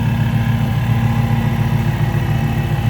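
The 5.4-liter dual overhead cam engine of a 2010 Ford Mustang Shelby GT500 idles steadily with a deep, even rumble and low throbbing pulses, close by and continuous with no talking.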